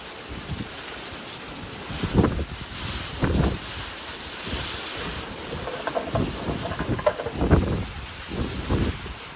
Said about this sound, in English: it looks like the wind decided to pick up quite a bit